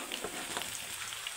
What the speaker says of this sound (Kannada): ಇದನ್ನು ಚೆನ್ನಾಗಿ ಫ್ರೈ ಮಾಡಿ